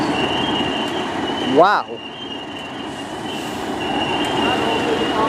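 A train pulls in at Stafford station on the West Coast Main Line, rolling past with a steady rumble while a brief rising wheel squeal cuts through near the start; a single voice exclaims over the noise.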